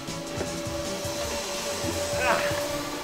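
A powerful vacuum cleaner runs with strong suction, holding a steady, loud whooshing drone with a thin whine throughout and no speech.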